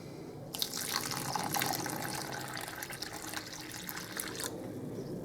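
Water pours into a hollow in a sand and cement mix for bricklaying mortar, a steady close splashing trickle that runs for several seconds and then eases off.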